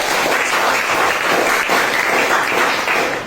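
Students in a classroom discussion give a group a round of applause, a loud, dense burst of many hands clapping that holds steady for a few seconds.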